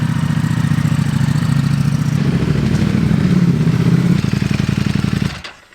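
Ducati Panigale track motorcycle engine running loud and close, a steady throaty idle and revving rumble for about five seconds before cutting off abruptly.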